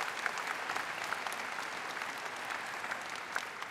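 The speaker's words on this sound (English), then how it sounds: "certainly he deserves a round of applause for that" Steady audience applause fills a college undergraduate graduation ceremony in honor of a senator, a dense, even wash of many hands heard from some distance, continuing without a break.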